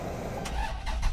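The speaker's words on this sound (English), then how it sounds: "Please start the engine." A Dodge Charger Scat Pack engine cranks and catches in a brief start, a short burst of mechanical whirring and rising engine noise heard close up, with no voices over it.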